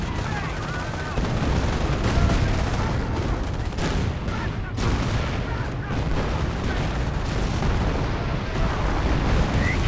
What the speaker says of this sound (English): Calliope Rocket Barrage running on in. Hitting this lava stuff.